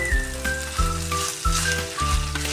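Chicken pieces frying in a pan for spicy chicken pastil, a steady close sizzle with crackling and faint rhythmic tones from the cooking setup running throughout.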